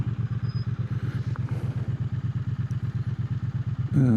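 A motorcycle engine runs at a steady, throbbing idle close by, its regular low pulses loud and unbroken with no voices, then revving up sharply at the very end.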